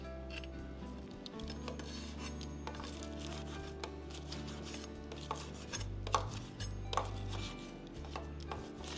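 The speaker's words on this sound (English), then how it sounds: "Then I wanna chop up this bacon." Knife chopping bacon on a cutting board for a Brussels sprouts dish, a steady run of close, soft rasping chops and scrapes continuing throughout with no talk.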